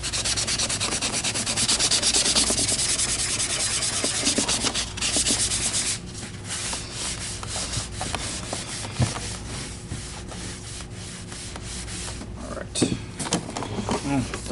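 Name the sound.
scrubbing paint marks off an Electrolux vacuum cleaner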